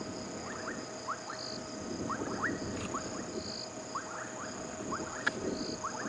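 Dwarf puddle frogs calling after rain at Djuma Game Reserve in the evening, short repeated chirping bursts scattered through the clip, fairly faint and distant over a steady hum of insects and night ambience.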